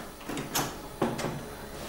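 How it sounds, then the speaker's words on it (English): A stuck bedroom door at a historic house being forced, with two dull rattling thumps close by and no voices. "I can't get the door open."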